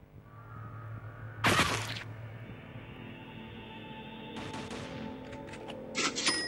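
A costly top-tier gun in a zombie shooting video game lets off a loud broadband burst of gunfire, followed after a pause by a longer, quieter stretch of rattling shots and a final short burst.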